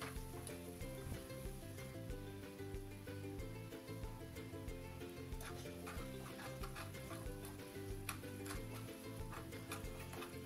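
Onions and green chillies fry in coconut oil with ginger-garlic paste, giving a soft, steady sizzle with light ticking stirs, quiet beneath background music.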